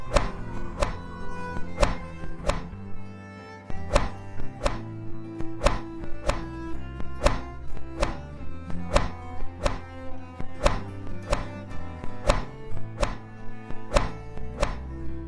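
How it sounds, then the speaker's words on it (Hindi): Wood being chopped in a forest during cold weather, a long run of evenly spaced sharp thuds about once per second, close and loud with no talking. "दोनों लकड़ी काटना शुरू कर देते हैं।"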